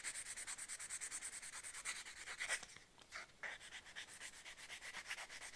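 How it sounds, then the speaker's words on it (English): Steady rhythmic back-and-forth rubbing of 400 grit sandpaper over nicks on Ford Foxbody Mustang trim, close and continuous with a brief pause midway, no talking. "400 grit sandpaper, and you just kind of go over those little nicks."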